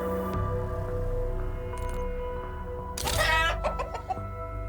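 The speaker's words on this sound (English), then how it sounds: "If you go to Prestige and you click Prestige and on the second menu you back out, it'll make a chicken sound." A video game chicken clucks in a short burst from the Call of Duty Zombies prestige menu, briefly rising over steady, tonal menu music.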